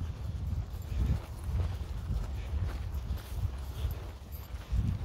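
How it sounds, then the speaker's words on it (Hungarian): A horse approaching along a path, its hooves clip-clopping in a steady walking rhythm, fairly close, with low rustling and no talk. "Figyeljetek, a szembe jön ló."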